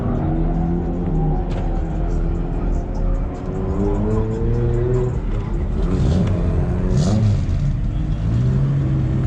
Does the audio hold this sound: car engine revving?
yes